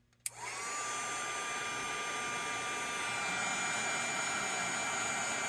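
A heat tool used to melt embossing powder starts with a click, then blows as a steady, loud whooshing hiss with a faint whine, running unbroken to the end.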